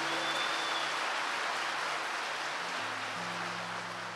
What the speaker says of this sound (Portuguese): Se você dava até um aplauso ao Senhor